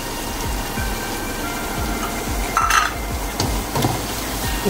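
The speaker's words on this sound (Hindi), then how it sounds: "टमाटर अच्छी तरह भूनूंगी इसके अंदर" Tomatoes frying in roasted masala in a pot: a steady close sizzle under repeated scraping stirs of a spoon against the pan, with occasional louder clinks and no talk.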